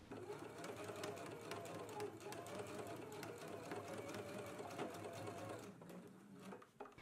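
Sewing machine stitching a seam along the lower edge of a McCall's M8480 garment, a steady close mechanical hum that runs nearly throughout before easing off near the end.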